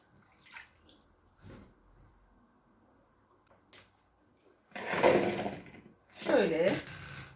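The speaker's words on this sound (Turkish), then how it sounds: "Hemen şöyle yıkayıp şöyle süzgeçimi alıyorum." Running tap water rinsing black olives in a colander, two louder splashing bursts near the end after quieter handling clicks, with a person talking in between.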